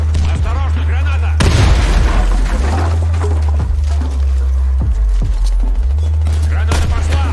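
Grenade blasts and gunfire in the video game Warface, with loud bursts of shots and booms in a steady run of combat noise, including a heavy burst near the start.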